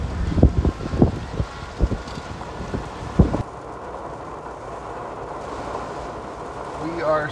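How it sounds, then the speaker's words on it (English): Strong gusts batter a microphone outdoors beside a temporary carnival fence as a storm arrives, heavy buffeting thumps giving way to a steady rushing hiss of wind and rain. "Here comes the rain."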